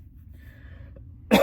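A single sharp cough bursts out near the end after a quiet stretch, close and loud.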